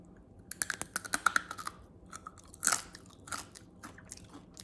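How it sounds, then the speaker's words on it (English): Several sharp, crisp crunches of someone biting into crunchy oil-free baked lotus root chips, close up, followed by a few quieter chewing crackles. "Let's see how crunchy it is."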